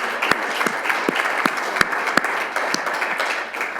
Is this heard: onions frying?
no